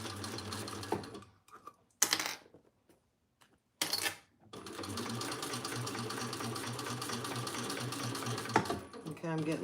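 A domestic sewing machine runs in bursts, stopping and starting with brief pauses before a long steady stretch of rapid mechanical stitching, close and fairly loud, with a voice talking over parts of it.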